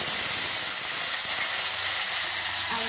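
Tomato and chopped ginger hit hot oil tempered with cumin seeds, dried red chillies, whole garam masala and a bay leaf, giving a steady, loud, broadband sizzle and hiss that stays even throughout with no talking.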